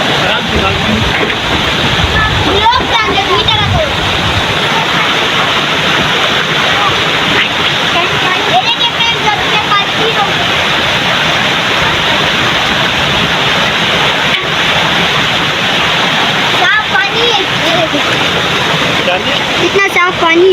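A mountain-valley waterfall roars with steady, loud broadband rushing water throughout, close by, with voices talking over it at times.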